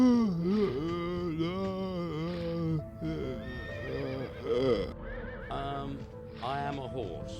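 A horse in the point-and-click adventure game Limbo of the Lost lets out a long, quavering whinny, then a string of shorter rising and falling neighs over several seconds, loud and close.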